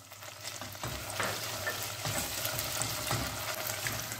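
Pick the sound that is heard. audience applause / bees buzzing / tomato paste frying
tomato paste frying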